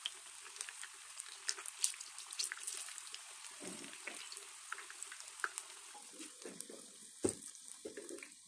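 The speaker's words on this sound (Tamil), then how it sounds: "இப்போது நம்ம மீடியம் ஃப்ளேமில் எண்ணெயில் ஃப்ரை பண்ணி எடுத்துக்கலாம்." Corn pakoda fries in oil over a medium flame with a quiet, steady sizzle and scattered sharp crackles and pops, heard close and alone.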